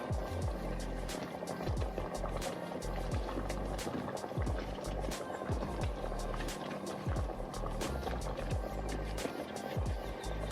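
Steady bubbling and simmering of a pot of sweet potato porridge with palm oil on the stove, continuous and fairly close, with small pops throughout.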